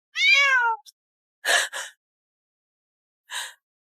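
A cat meows clearly, one long descending meow followed by a few shorter, breathier calls with pauses between them, close and alone.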